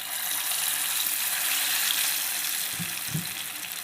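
Prawn pakoda batter hits hot oil in a pan and fries with a dense, even hiss, joined by two soft low plops near the end as more pieces drop in; no voices.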